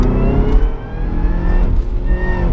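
A 556 hp Cadillac CTS-V wagon accelerates hard, engine revving up in rising sweeps with a gear shift around midway and another near the end, loud and close from inside the car.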